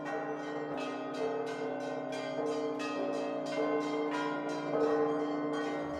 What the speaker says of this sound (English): Maria is the only one who still uses the bells to play a melody